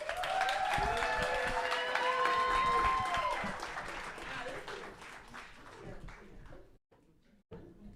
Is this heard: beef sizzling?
no